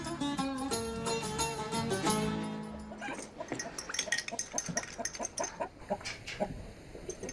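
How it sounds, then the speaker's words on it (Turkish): Chickens cluck and squawk in short bursts over a backdrop of music, with a busy, cluttered barnyard feel. "Tavuk var, tavuk var orada."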